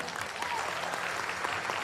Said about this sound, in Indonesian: Tepuk tangan paling meriah pun Anda.